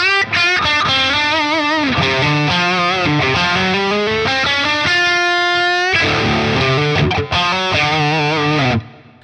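A heavily distorted electric guitar in drop D tuning plays a chugging riff alone, with loud sustained power chords, quick muted stabs and a held note before ringing out at the end.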